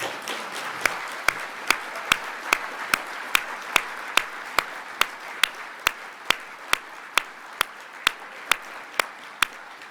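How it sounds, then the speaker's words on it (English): Hands clapping steadily at an evenly spaced beat, maybe two per second, for the Future Leaders in Agriculture attendees at an agriculture outlook forum. The crisp, close claps keep going over a soft wash of audience noise. "let's give them a round of applause"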